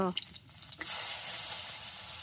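Garlic dropped into hot oil sets off a sudden loud sizzle right after a few brief clatters, then keeps up a dense, steady hiss close by.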